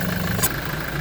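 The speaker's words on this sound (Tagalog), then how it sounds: "Umandar na. Ito ang ating Toyota Innova." A Toyota Innova 2.8 engine idles just after its carbon-clogged turbo was cleaned, giving a steady, close mechanical hum with no voices over it.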